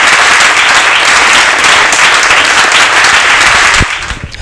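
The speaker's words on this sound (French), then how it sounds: "nous demandons au public de pouvoir applaudir très fort" An audience at a comedy show applauds a comedian hard and evenly, the thick clapping running close and loud before dropping off abruptly near the end.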